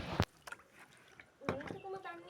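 Water poured over soaked rice for chicken biryani: a short splash of liquid at the start, then soft drips and gurgles alongside faint talking.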